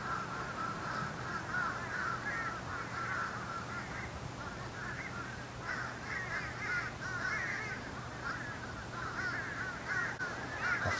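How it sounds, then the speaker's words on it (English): A large flock of crows caws continuously around an outdoor Christmas display in Eustis, Florida, the many overlapping calls blending into a busy, fairly distant chorus over low background hum. "I swear there is just like crows everywhere. They're going crazy."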